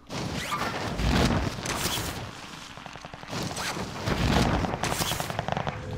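Bursts of STG rifle fire in a Warzone Resurgence match, sharp rapid rattling volleys in several clusters with brief pauses between them, loud and close.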